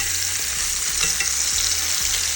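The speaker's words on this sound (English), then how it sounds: "let them brown all over. I only want them to brown a little bit on each side" Beef short ribs brown in a hot frying pan with a loud, close, continuous sizzle and frying crackle. Soft scraping or shifting sounds recur every half second or so.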